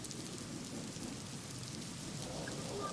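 Heavy rain pours along the flooded Thane–Belapur road, a dense steady hiss with a low background rumble, moderately quiet and continuous throughout, no voices.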